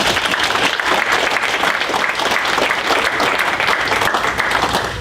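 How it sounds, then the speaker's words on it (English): An audience at a Dumfries town meeting gives a young soccer team a full round of applause, with loud, even clapping that holds steady for several seconds. "give these youth a round of applause"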